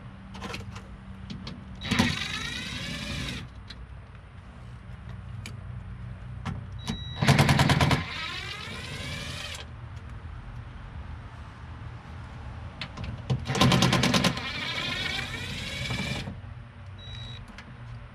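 A power tool backs out 8mm bolts holding the rear window motor inside a 1992-97 Ford OBS crew cab truck, with several separate whirring bursts rising and falling in pitch between quieter handling noises.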